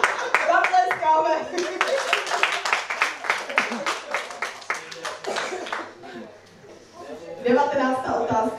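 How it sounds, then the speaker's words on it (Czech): Wedding guests clap together in a dense, lively burst that fades briefly and then picks up again, with voices mixed in around the applause. "Zatleskáme."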